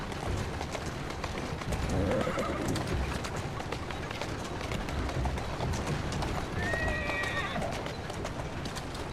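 In Assassin's Creed Syndicate, a mare neighs twice over a steady clatter of galloping hooves, the whinnies standing out clearly above a dense, rumbling backdrop.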